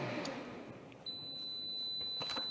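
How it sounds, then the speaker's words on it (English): A single steady high-pitched electronic beep sounds from a Magimix Cook Expert food processor and holds for over a second amid quiet room noise. "We love the beep, don't we?"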